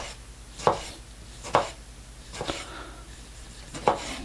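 A knife, a Kizlyar Supreme Corsair, chops through a very soft tomato on a cutting board, four separate dull cuts with short gaps between them and no talking.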